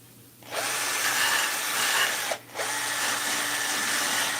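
Power tool sanding a spinning handmade wooden top, a steady loud whirring grind that starts after a brief quiet moment and drops out once for a fraction of a second before resuming, with no talk.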